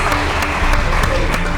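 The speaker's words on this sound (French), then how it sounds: "On applaudit toutes les athlètes qui ont fait de très beaux matchs par rapport à la période." Audience applause at a strength competition, a dense, steady wash of clapping filling the short moment at close range with crowd noise beneath.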